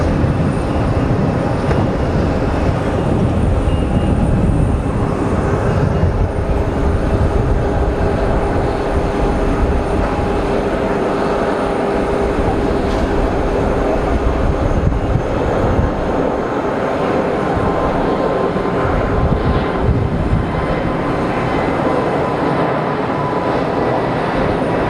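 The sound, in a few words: aircraft taking off at Geneva Airport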